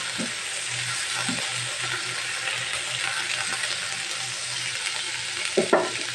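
Onion with ginger-garlic paste fries in a pan for a vegetarian dish, giving a steady close sizzle throughout with a few soft clinks and stirring knocks near the end.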